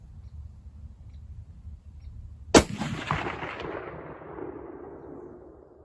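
A single loud shot from a Marlin 336 lever-action rifle in .30-30 cracks outdoors at a range, followed by a long rolling echo that fades into quiet background.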